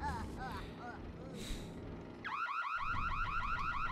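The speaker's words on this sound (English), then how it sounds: "It's a car alarm." Warbling car-alarm tone inside Super Mario Galaxy, switching on abruptly partway through and cycling in loud rapid repeated sweeps over background game music and effects.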